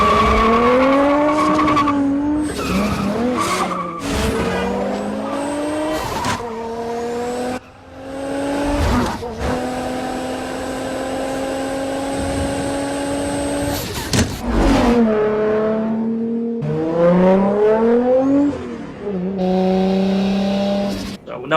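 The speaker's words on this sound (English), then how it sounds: "Between that, the turbo, and the apex blow-off valve and the exhaust, it had a very unique sound." Toyota Supra with a turbo, an Apex blow-off valve and aftermarket exhaust, heard in loud, close passes of revving and shifting engine tones that rise and fall, with tire squeal and brief breaks between bursts.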